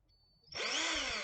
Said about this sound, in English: I just have a electric screwdriver